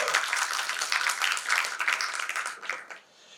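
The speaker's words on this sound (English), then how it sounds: "I think we can give him another round of applause." Applause from a conference audience, dense clapping that stays lively for nearly three seconds before fading quickly to quiet.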